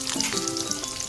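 Potatoes fry in a pan after being salted, giving a dense, continuous close sizzle with crackling pops throughout a brief stretch.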